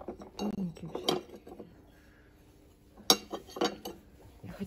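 Tableware clinks in a shop as items are handled, a few sharp isolated clinks and knocks close by with quiet stretches between, while people talk softly.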